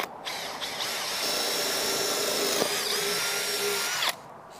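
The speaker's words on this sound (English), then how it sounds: "We're going to drill a hole into the tyre." A power drill whines steadily for about four seconds as it bores into a rubber tyre, close and loud, then stops abruptly.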